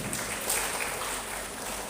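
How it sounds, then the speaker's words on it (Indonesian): An audience applauds at a routine meeting of education officials, a steady, fairly faint wash of clapping that holds evenly for about two seconds with no voice over it. "Tepuk tangan lagi"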